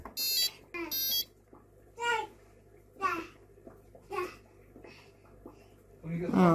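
Buzzer on a Keyestudio ESP32 IoT smart farm kit (KS0567) gives two short bursts of high, harmonic beeping near the start, followed by intermittent talking and small handling noises.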